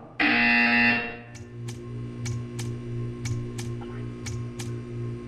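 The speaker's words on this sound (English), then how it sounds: "When you hear the buzzer, stare at the art." The test-chamber buzzer in the video game Portal 2 gives one loud, sustained tonal blare of about a second, then cuts off and leaves a steady low hum with faint periodic ticks.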